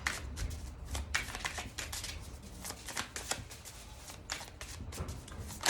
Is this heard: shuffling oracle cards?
yes